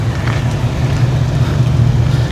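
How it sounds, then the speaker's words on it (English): Cars drive along a cut-through street in Freehold, New Jersey, with a steady, loud, close engine and road rumble plus some wind buffeting the microphone. "A lot of cars coming out."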